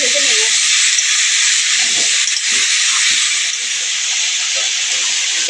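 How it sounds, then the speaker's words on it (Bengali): Kohlrabi frying lightly with turmeric in a pan gives a loud, steady, close hiss of sizzling oil that runs unbroken throughout, with faint clinks beneath. "হলুদ, ওলকপিটা এবার আমি হালকা করে ভেজে নেব।"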